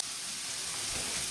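Onions caramelizing in a pan with a little salt, giving a dense, even sizzle that stays close and steady throughout the brief moment, with no voices.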